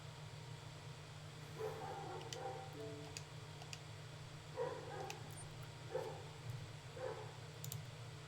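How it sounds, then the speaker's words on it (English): A neighbor's dog barks several times in the distance, faint short yaps spread across the clip over a steady low hum from game audio. "Oh, that's not my dog, that's a neighbor's dog."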